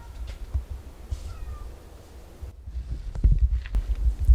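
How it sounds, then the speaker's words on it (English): A cat meows faintly at a distance outdoors near a chicken area, with a few short calls over soft rustling and low wind-like noise. "There's a cat over there."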